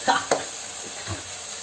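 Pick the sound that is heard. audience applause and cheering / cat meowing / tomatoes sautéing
tomatoes sautéing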